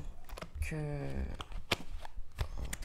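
Angel tarot cards being shuffled by hand in quick, crisp riffling bursts, with a voice speaking over the shuffling.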